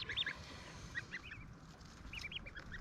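Cotton Patch goose goslings give thin, high peeping calls in short clusters over a soft, rumbling background, small and fairly faint, with no talking.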